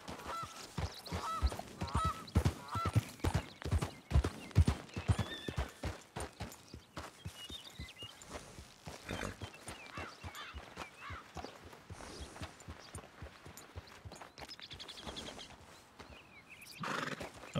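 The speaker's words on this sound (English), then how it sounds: "I hear a horse over by the barn there." In Red Dead Redemption 2, hooves clip-clop in an irregular, shuffling rhythm by a barn, followed by a horse whinnying, with faint honking birds in the background.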